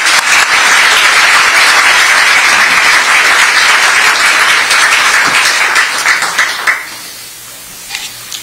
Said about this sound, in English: a round of applause to welcome our debaters